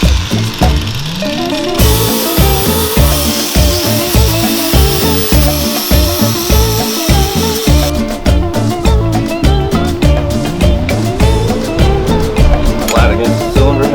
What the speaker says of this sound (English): that should finish up our grinding